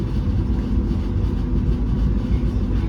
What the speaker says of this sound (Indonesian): Ini ada kereta api KTL BBM, angkutan BBM.